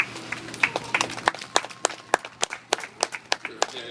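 Scattered applause from a small crowd at a bottlenose dolphin show at Clearwater Marine Aquarium, a dozen or so sharp separate claps in irregular rhythm, fairly close, with faint voices underneath.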